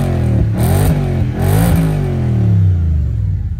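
An Audi S4 with a 4.2 V8 revs hard while accelerating, a loud close engine roar rising in pitch through quick gear changes, with no talking.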